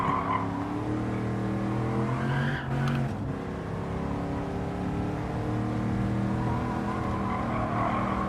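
Race car on a track with a slightly banked turn, engine droning steadily as it brakes and turns in, with a brief tire squeal midway, loud and continuous throughout.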